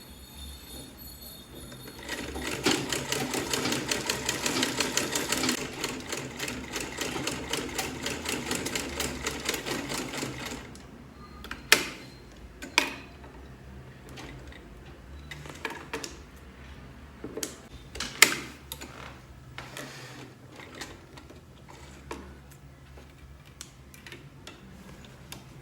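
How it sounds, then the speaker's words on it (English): A sewing machine runs in a fast, rattling burst of stitching for several seconds as it top stitches a corset dress, then stops, leaving scattered clicks and taps in a quiet room. "This is how you top stitch."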